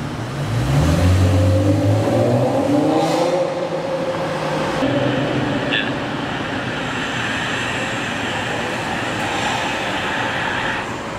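A car's engine revs loudly at close range, rising and falling in pitch over the first seconds, then settles into a steady, loud roar that holds throughout.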